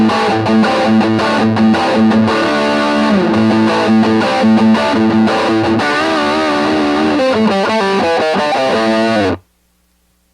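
Electric guitar played through the high-gain German Ubersonic channel of a ValveTrain PowerTrain Studio 20 amp, thick saturated distortion with sustained chords and riffs, loud and continuous before cutting off abruptly near the end.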